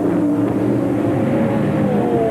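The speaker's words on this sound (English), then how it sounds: "When the cars actually come past our broadcast box, which is at pit level here, the whole room shakes with these cars." Touring race cars from the 1995 Australian Touring Car Championship roar past a pit-level broadcast box, a loud continuous engine drone with shifting pitch as several cars sweep by close, no talk over it.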